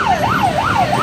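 Fire truck siren on a unit responding to a fire in Basak Mambaling, Cebu City, wailing in smooth rising and falling sweeps, loud and close, with no talk over it.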